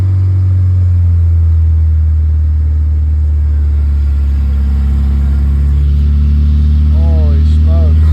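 A Nissan 240SX engine runs with the throttle held so it won't stall, a loud, steady low rumble close by with a slight waver near the end, while someone talks over it.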